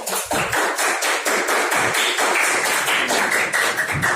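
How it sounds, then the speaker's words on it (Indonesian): A classroom gives applause for a presenting group, a brisk, steady run of close claps and taps that keeps up evenly for a few seconds without pause. "Beri tepuk tangan buat kelompok 3."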